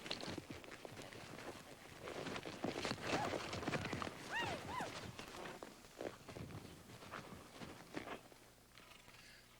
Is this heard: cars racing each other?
no